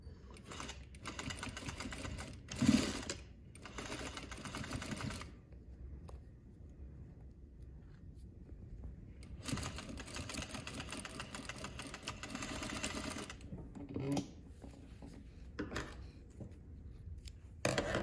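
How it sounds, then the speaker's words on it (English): A sewing machine stitches down the pleats of a fabric face mask, its needle running in bursts with brief pauses between passes, close and steady with no talking. "it's best to sew going down the pleats so they hold their shape"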